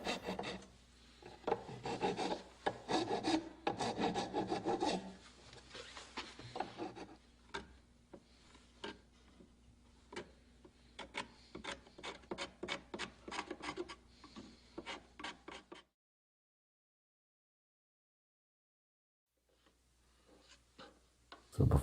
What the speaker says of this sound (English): and finally the curved file.